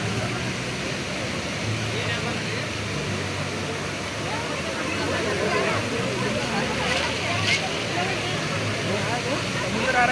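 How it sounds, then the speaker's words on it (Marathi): Water rushes at Amboli waterfall in a steady, loud broadband roar that stays even throughout, with voices of people nearby mixed underneath. "आंबोलीचा धबधबा आहे."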